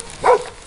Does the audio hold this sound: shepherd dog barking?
yes